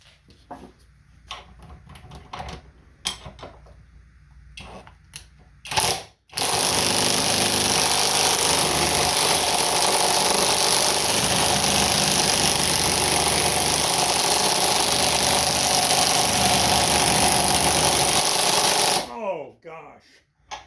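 An impact wrench with a 1/2 inch impact socket on a grade 8 bolt, first tapping in short bursts, then a long, loud, continuous hammering rattle that stops abruptly, with brief speech heard near the start.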